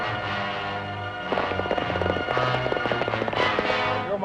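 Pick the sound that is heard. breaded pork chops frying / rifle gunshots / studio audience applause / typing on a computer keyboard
rifle gunshots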